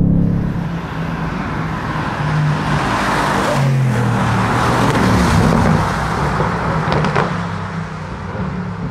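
Mercedes-AMG GT accelerating hard out of a corner on a race track, a loud sustained engine roar that builds and holds close by, with no talk over it.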